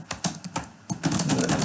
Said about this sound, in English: and then start typing in English